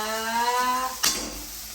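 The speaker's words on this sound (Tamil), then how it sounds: "வெங்காயம் நல்லா வதங்குது" Onions sautéing in a pan at home cook steadily with a soft, even sizzle, a brief louder scrape or stir near the middle, and no talking over it.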